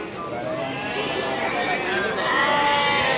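Sheep bleat amid the bustle of Pasar Wage livestock market in Bumiayu, with several overlapping animal calls and steady crowd noise, and people talking throughout.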